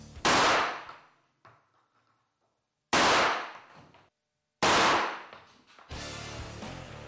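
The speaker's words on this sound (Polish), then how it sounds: "kilka strzałów z breneki" Three loud, sharp shotgun blasts firing slugs at a laptop, spaced a couple of seconds apart, each ringing out and decaying, followed by a steady clattering noise at the end.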